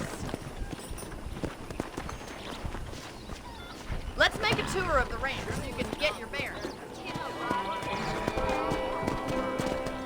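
Horse hooves clip-clopping in Red Dead Redemption Undead Nightmare, a rhythmic gallop with occasional snorts under someone speaking, plus scattered game ambience and faint music.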